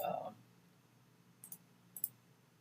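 A computer mouse clicks twice in a quiet room, the two soft separate clicks about half a second apart during schematic design software work.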